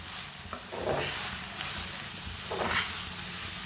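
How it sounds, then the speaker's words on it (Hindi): Chicken recipe ingredients with finely chopped green chilli are mixed together by hand, producing soft, faint scraping and squelching strokes in a few uneven bursts. "सब चीज़ों को अच्छी तरह मिक्स कर लेंगे।"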